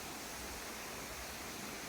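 Steady broadband roar of a waterfall in a Kerala forest, continuous and fairly distant-sounding, with no breaks or other sounds over it.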